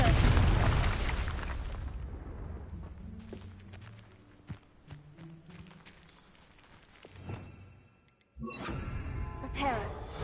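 A Confringo blasting spell explodes in the Hogwarts Legacy video game, a loud booming burst up front that fades into quieter rumbles and scattered impacts, followed by a second strong blast near the end.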